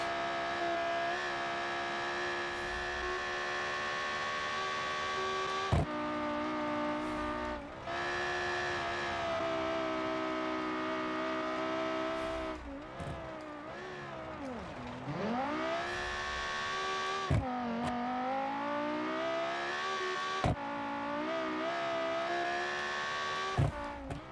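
A V10 engine in an SUV during a cross-country race, revving loudly and steadily with rising and falling pitch through gear changes, a continuous close roar for the whole stretch.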